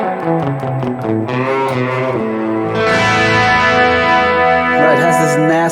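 An electric guitar goes from a clean preset to a distorted tone as a Harley Benton Ultimate Drive overdrive pedal is switched on, playing a continuous chord-based phrase that sounds loud and close.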